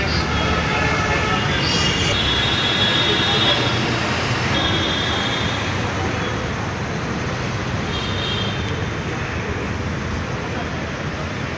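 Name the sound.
metro train running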